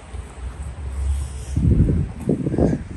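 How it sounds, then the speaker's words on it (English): Strong, cold, snowy wind in Vyborg, Russia buffets the microphone in a low, rumbling roar that swells into heavier gusts partway through, with no voices. "It's cold, it's windy, and it's snowing"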